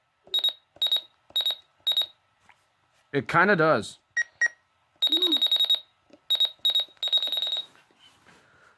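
Button beeps from a RadioShack 12-250 radio scanner: short bright beeps in quick rhythmic bursts, close and clear, with a brief stretch of talking partway through.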